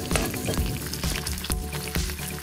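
Bacon fries in a pan with a steady, close crackling sizzle, dotted with sharp pops and spits throughout, with no talking.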